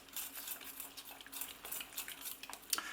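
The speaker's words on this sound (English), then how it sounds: "Remember to stir constantly." A spoon stirs a thickening sauce in a pot for a savoury pastry filling, quick scraping and clinking strokes against the metal in a busy rhythm, close but fairly quiet with no voices.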